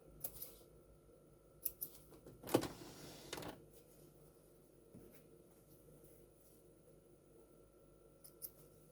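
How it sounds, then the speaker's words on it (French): Scissors snip loose sewing threads at the end of a seam on a small coin purse, a few quiet clicks followed by a short scraping rustle, then near silence with faint taps. "Donc je vais couper mes petits fils."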